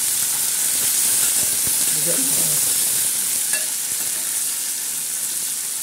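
Green chillies and tomato with onion sizzle and hiss steadily in a pan while being stirred for spicy tangy poha. A close, continuous frying sound with soft scraping of the stirring.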